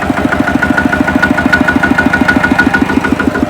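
A farm tractor's engine idles close by, a steady rapid thumping beat with a loud even rhythm, running alone with no voices.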